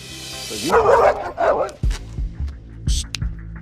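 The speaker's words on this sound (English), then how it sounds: "Ever since, Leon has been aggressive to both dogs and people" Several sharp, aggressive barks and growling yips from a dog that attacks both dogs and people, loud and close and coming in a quick burst, with someone speaking over the start.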